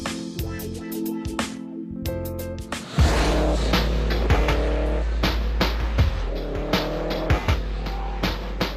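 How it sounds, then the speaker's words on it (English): Koch-tuned Subaru Impreza WRX STI takes sharp turns around pylons on tarmac. A loud engine revs hard over a music bed, with repeated tire squeals and quick throttle bursts. "Despite hard tuning and super direct steering, the Impreza rounds the pylons sharply."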